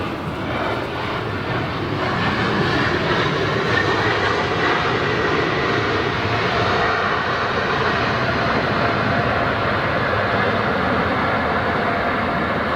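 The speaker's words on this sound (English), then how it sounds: "Noisy for a little aircraft like that. I mean, those are Pratt & Whitneys." A Swiss Airbus A220 with Pratt & Whitney engines lands at London Heathrow in windy conditions, its engine roar loud, broadband and steady throughout with wind buffeting, no talk over it.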